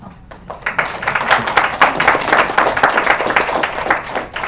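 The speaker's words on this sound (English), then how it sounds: "Let's give a warm applause for the great presentation again." Steady applause from a conference audience after a presentation, many hands clapping together at a fairly loud, even level that carries on throughout.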